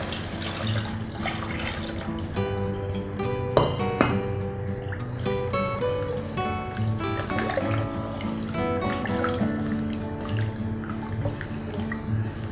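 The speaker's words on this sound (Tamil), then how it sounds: "இதில் எடுத்து வச்சுருக்கிற அளவுக்கு ஏற்ற தண்ணி இதில் நான் இதில் ஊற்றிக்கிறேன்." Water is poured into a cooking pot for vegetable biryani, a steady splashing and trickling stream with faint drips that continues for several seconds without talk.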